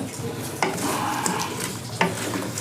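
Chicken fillet and fried potatoes stirred through hot oil in a pan, a steady sizzle with two sharp scrapes of the utensil against the pan, close and fairly loud.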